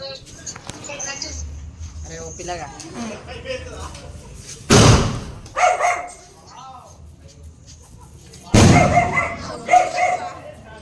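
Two sharp, loud Diwali firecracker bangs several seconds apart, amid people talking and a dog barking nearby.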